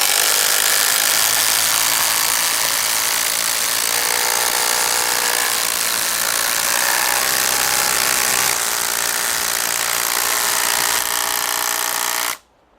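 A 12-volt Hikoki impact driver sinking a 10-inch screw into wood, a loud continuous rattling hammer-whine that runs steadily for about twelve seconds, straining slightly toward the end, then cuts off abruptly.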